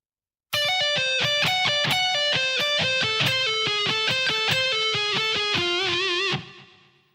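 Distorted electric guitar plays a solo at a slow tempo, a steady run of clear sustained notes ringing loud and close, the last note fading out alone.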